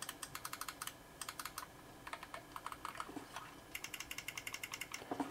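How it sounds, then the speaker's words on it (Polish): A Thermaltake Theron Plus gaming mouse has its buttons clicked in quick bursts of sharp, faint taps, several runs of rapid clicks separated by brief pauses. "Jak klikają,"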